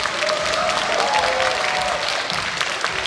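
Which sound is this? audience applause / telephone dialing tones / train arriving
audience applause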